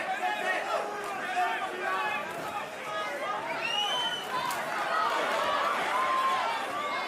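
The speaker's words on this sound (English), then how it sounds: "The crowd cheer there" A boxing crowd roars at a Friday Fight Night bout, a steady dense wash of cheering and chatter that runs throughout, with a commentator talking over it.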